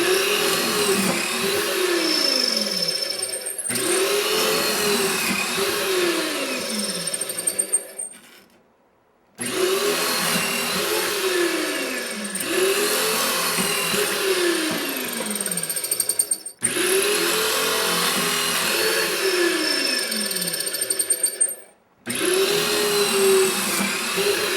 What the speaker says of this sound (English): So we'll just drill these out too.